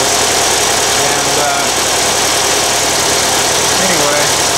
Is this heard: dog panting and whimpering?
no